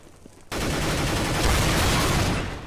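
Auto shotgun fire in the Counter-Strike video game on Xbox: a loud, dense barrage of gunfire starts abruptly after a short quiet moment and keeps going, close and unbroken, to the end.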